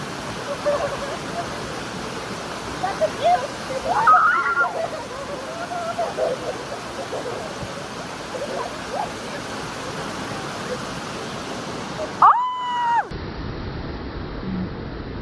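Water pours steadily at a waterfall, a constant broad rushing roar that carries through the whole stretch while people talk and call out over it nearby.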